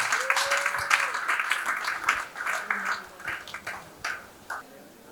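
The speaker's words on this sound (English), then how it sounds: "A round of applause for Sholakwe Azazi." An audience at a Catholic archdiocese family-life event in Lagos gives a round of applause, scattered moderate clapping that thins out over several seconds.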